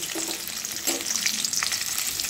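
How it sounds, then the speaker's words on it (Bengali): Onions frying lightly in white vegetable oil in a pan, a steady soft sizzle with a few stirring scrapes, close and continuous with no talking. "পেঁয়াজ আর এটা হালকা, খুব একটা ভাজার দরকার নেই, একটু হালকাভাবে ভেজে নেব"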